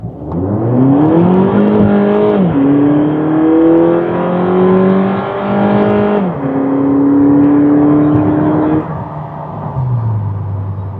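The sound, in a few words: Volkswagen Polo GTI 2018 accelerating hard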